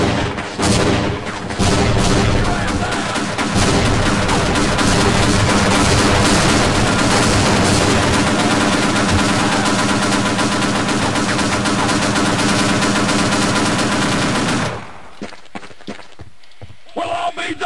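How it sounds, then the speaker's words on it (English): Sustained, dense automatic gunfire and blasts from live-fire boot-camp training in the game Opposing Force, loud and continuous before cutting off sharply near the end. "They weren't kidding about live fire."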